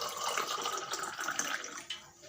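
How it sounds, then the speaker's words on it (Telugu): Water poured into a pot while cooking a home meal: a steady, close hiss and splash that runs for a couple of seconds and tapers off at the end. "సో ఇప్పుడు మనం కొన్ని వాటర్ యాడ్ చేసుకోవాలి"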